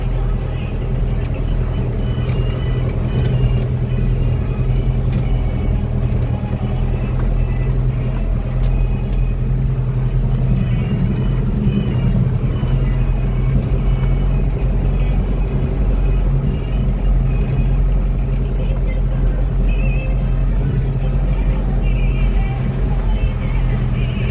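A tractor drives toward a sunflower field for discing, with a loud, steady low engine drone that stays close for the whole stretch, and a voice talks faintly in the background.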